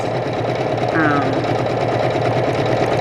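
A Juki HZL-K85 beginner sewing machine stitching gives a steady, close mechanical whir that runs unbroken for the whole few seconds, with a voice over it.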